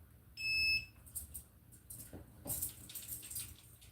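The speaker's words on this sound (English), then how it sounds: "I'm going to turn on the collar. You're going to hear it beep" An electronic dog training collar emits a short, high-pitched steady beep near the start, followed by a dog's faint whimpers and shuffling in a quiet room.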